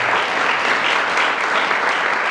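Dense applause from a gathered audience at a religious lecture, steady and fairly loud throughout, with no voices over it.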